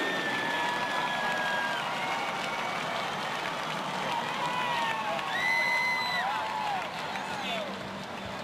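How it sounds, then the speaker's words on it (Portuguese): A large crowd cheers and whoops in a big echoing arena at a gymnastics competition in São Paulo, with applause and scattered shouts rising and falling throughout. "Sobe som para a torcida do Ibirapuera."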